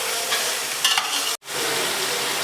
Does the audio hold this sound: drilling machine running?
no